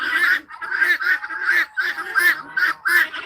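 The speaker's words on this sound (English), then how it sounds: "We got some ducks over here." Ducks at a poultry yard, including white Muscovies, give repeated loud honking calls in quick bursts close by, one call after another for several seconds.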